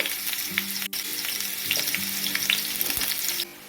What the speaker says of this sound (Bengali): আলুগুলো ভাজা হয়ে গেছে এবার আমি তুলে নেবো